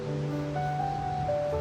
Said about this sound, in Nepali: यस्तो राम्रो ठाउँ सेती खोला बगिरहेछ call call call call call